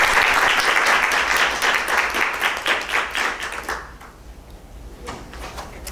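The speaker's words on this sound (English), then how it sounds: "can we give them just a round of applause in their absence?" Applause from a university lecture audience fills the room: dense, steady clapping for about four seconds, then thinning out to a few scattered claps.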